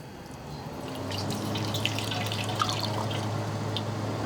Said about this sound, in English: We're going to pour it in right in the top here.